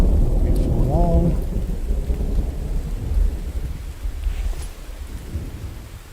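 Steady rain with a low rumble of thunder in a survival video game, the downpour continuous and fairly loud throughout, a brief tonal game sound near the start.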